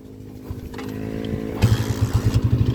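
A TMX155 motorcycle engine catches and settles into a steady, smooth idle with a close, rhythmic low thump, growing louder partway through.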